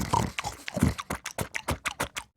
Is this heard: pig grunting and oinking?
yes